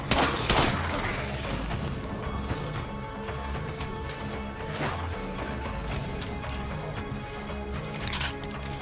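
Unsuppressed gunfire rings out in the State of Decay 2 video game as a loud, continuous volley of shots with scattered crashes and metallic clatter, alone without talk.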